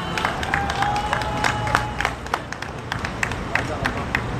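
A large outdoor crowd at a Daegu Taegukgi rally applauds after a speech, with sustained, dense clapping and a few cheers under a general hum of voices.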